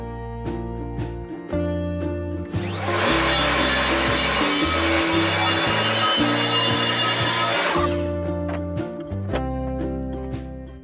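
Cutting the base of a resin King Kong model kit with a power tool: a steady, harsh whirring grind of about five seconds that starts and stops abruptly over continuous background music.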